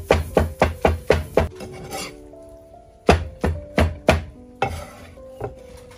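A knife slices through a fried chicken egg on a cutting board in a rural kitchen, with two bursts of quick, rhythmic close-up chops, about six strokes each, separated by a short pause.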